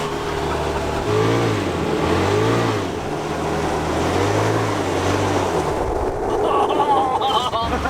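An off-road buggy on knobbly tyres drives through mud, its engine loud and continuously revving with rising and falling pitch, with heavy road and wind noise throughout.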